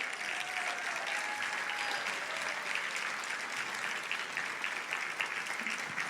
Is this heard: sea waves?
no